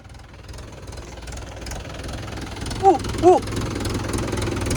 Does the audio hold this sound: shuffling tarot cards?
no